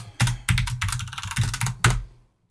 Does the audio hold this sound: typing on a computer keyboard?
yes